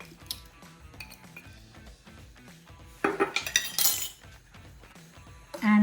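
Spices, garlic, black pepper, chili powder and corn flour are stirred in a bowl, with light clinks and scrapes of a utensil against the dish, growing into a louder clattering burst partway through, and no one speaking.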